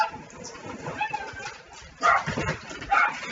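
Dogs indoors give a few yips and whimpering cries in two short bursts, moderately close, over a quiet room background.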